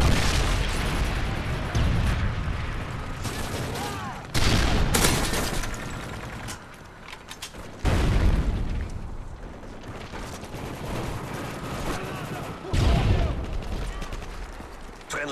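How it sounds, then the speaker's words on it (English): Predator missile strike explosions in a multiplayer shooter game, several loud booming blasts spaced a few seconds apart, with crackling gunfire and rumble filling the gaps. "Predator missile inbound."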